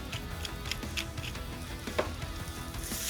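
Onion and potato fry in a pan with black pepper, giving a steady close sizzle with light ticking and pattering and occasional soft stirring knocks, no voices.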